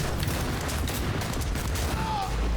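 Dense gunfire in the Cyberpunk 2077 video game, a continuous low rumble of shots and booms under a busy game mix, loud and steady throughout the short stretch.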